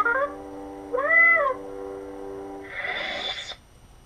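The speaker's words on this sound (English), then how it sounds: "Force sounds, double click of the power button, which this one's all BB-8" Electronic sci-fi effects from a Proffie Graflex 2.5 Rey lightsaber: a tonal warble, a rising warbly swoop like BB-8 chirps, then a noisy whooshing burst that cuts off, like a force push.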